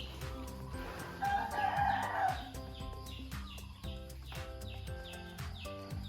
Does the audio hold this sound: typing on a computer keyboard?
no